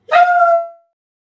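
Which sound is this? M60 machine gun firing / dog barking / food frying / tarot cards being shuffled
dog barking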